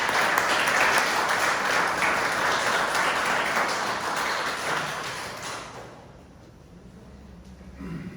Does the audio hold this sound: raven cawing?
no